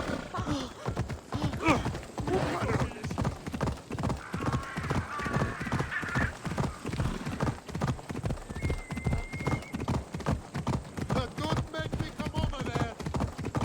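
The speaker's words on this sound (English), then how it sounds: "Ride, Phobos!" A horse gallops in Assassin's Creed Odyssey with rapid, steady hoofbeats pounding close and loud throughout, joined by a brief whinny and some in-game voices.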